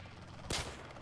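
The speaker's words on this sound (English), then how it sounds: "I have a pump shotgun, right?" A single sharp, loud pump shotgun blast in a Rainbow Six–style tactical shooter video game, one short burst with a quick decay over quiet background.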